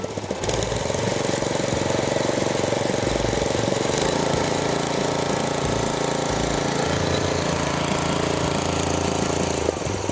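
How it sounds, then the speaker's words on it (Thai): A Golden Horn GH45 tiller's small engine runs loud and close, a steady rattling, knocking drone with a brief dip and rev near the start and little change after, no voices over it. "ลูกค้าสามารถเร่ง ความเร็วรอบ ตามความต้องการได้เลยนะครับ"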